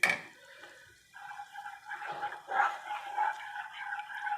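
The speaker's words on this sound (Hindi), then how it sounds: "मैं पानी डालने जा रही हूँ। ये मैंने पानी डाल दिया।" Water pours into a bowl of apple pie filling, a short close splashing trickle that settles into a light gurgling fill, heard alone.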